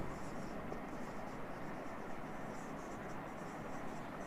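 Pen or marker strokes scratch quietly and continuously while a math solution is written out, a faint close scribbling under low background hiss.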